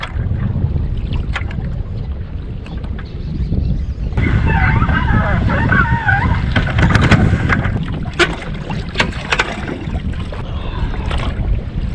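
Strong wind roars and buffets steadily for several seconds, loud and continuous, with faint knocks and creaks near the water while fishing in the Danube Delta.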